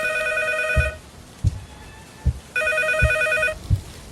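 A phone ringing in a house, found near the bathroom, two clear bursts of an electronic ringtone with a pause between and dull thumps or footsteps under it, no voices.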